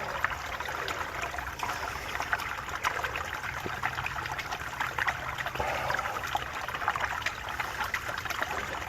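Creek water trickles and flows steadily, a continuous close babble with small splashes and no break.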